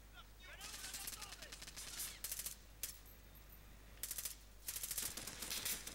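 Rapid machine gun fire in Call of Duty: Modern Warfare, several loud rattling bursts separated by brief pauses over a low steady hum, with a voice faintly present.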